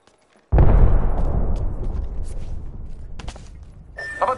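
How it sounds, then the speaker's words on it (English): A single heavy burst of gunfire in Destiny 2 cracks out loud and close, then decays into a rumbling wash of combat noise, with faint sharper crackles near the end. "Taking fire."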